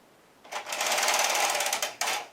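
An Ultimate Sweater Machine knitting carriage sliding across its row of needles, a steady rattling swish lasting about a second and a half with a brief second pass at the end, close and fairly loud with no talk.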